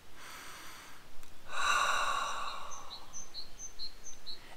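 A long deep breath drawn in and let out before an air rifle shot, heard close and fairly loud as a rushing inhale that tapers into a slow exhale, with faint bird chirps in the background.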